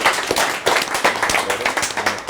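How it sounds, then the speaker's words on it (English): Audience applause from a tech talk crowd, a dense, steady patter of many hands clapping close by for a couple of seconds with no voices. "give him a big round of applause for giving up his Thursday for you guys"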